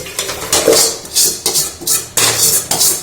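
A metal kadai clanks and scrapes against other pans and utensils in a home kitchen as it is set up for tempering, several loud close metallic knocks in irregular bursts, no voices.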